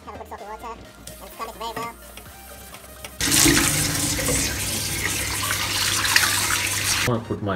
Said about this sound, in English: So I'm going to use the hot soapy water to get rid of the factory oil.